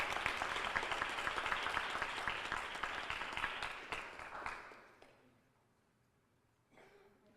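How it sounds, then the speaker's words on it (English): An audience at a Teacher of the Year awards and scholarship salute applauds an honored teacher. Dense, close clapping runs for about five seconds, then fades out, and a few scattered claps follow. "let's give her a round of applause"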